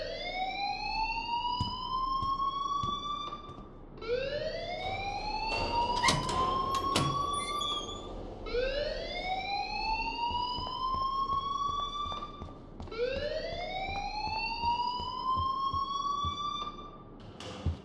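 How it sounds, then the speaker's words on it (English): A fire alarm in the video game Life is Strange wails in four rising sweeps, each a loud electronic tone that climbs in pitch and cuts off before the next one. "please turn off that alarm"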